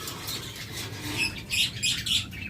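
A pair of high-quality caged pet birds for sale, giving short bright chirps and tweets over faint wing flutters and background rustle, close by with no speech.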